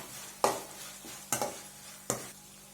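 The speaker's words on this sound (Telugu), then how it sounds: "మరోసారి కలుపుకోండి." Onions and green chillies frying in a pan while being stirred, three distinct scraping strokes over a faint steady sizzle, close and quiet.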